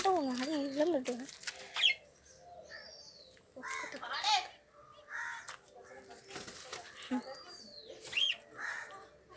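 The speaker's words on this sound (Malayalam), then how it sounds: "പിന്നെ അവിടെ കിളിയൊക്കെ ഉണ്ട്." Birds call outdoors near a roadside spot with autos, giving repeated cooing and cawing calls at a moderate distance, partly mixed with nearby talk.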